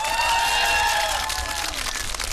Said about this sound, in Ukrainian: Оплески футболці.